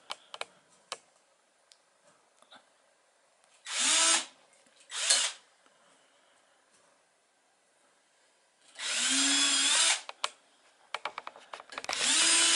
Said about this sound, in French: On a mis un petit clou au bout de la perceuse et voilà, tu fais les trous.